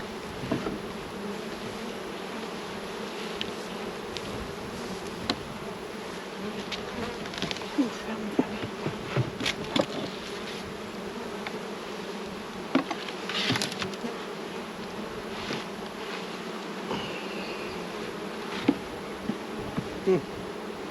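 Honeybees buzz steadily around nucs and hives outdoors, a continuous low drone with individual bees zipping past close by now and then, with occasional faint handling knocks and no talking.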